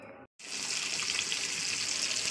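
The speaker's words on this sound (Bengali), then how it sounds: "আমি এবার মাছগুলোকে একে একে দিয়ে দিচ্ছি।" Fish pieces slide one by one into hot mustard oil in a small kadai, setting off a loud, steady, close sizzle that fills the clip after a brief silent gap.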